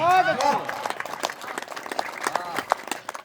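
An audience applauding at a Hindi poetry recital, a short patter of clapping that thins out, overlapped by a voice speaking at the start.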